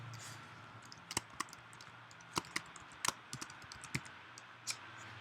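Computer keyboard typing, a sparse run of separate key clicks and taps over a quiet hum, close and fairly faint.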